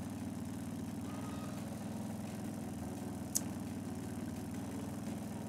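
A motorcycle engine idles steadily in the Trails of Cold Steel game during a gear change, a low continuous rumble that holds even throughout with one brief sharp click partway through.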